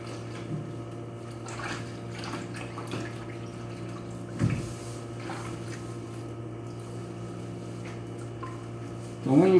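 An endoscope being brushed while held under water running from a tap into a sink: a steady, close rush of flowing water with faint scrubbing and splashing over a constant low hum.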